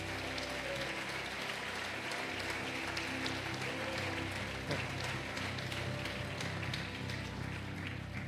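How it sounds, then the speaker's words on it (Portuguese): Church congregation clapping their hands in praise during a worship service, a steady dense wash of applause from many people filling the room, with no talk over it. "Louve ao Senhor com as suas palmas"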